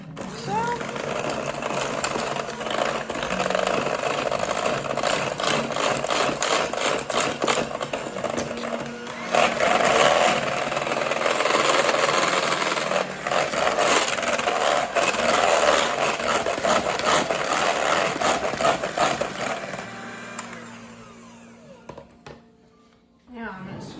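King cake batter with an added egg is beaten by machine for a long, continuous whirring, grinding stretch close to the mic, tapering off and stopping near the end.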